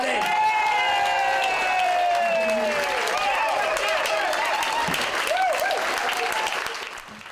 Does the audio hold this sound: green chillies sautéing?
no